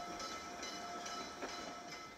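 A restored 1906 railway engine runs along a scenic railroad line climbing uphill toward the town of Engeln, heard as a steady, fairly faint rolling rumble with a hissy, continuous mechanical wash and no talk.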